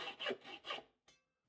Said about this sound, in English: I'm gonna go ahead and cut a slot with my hacksaw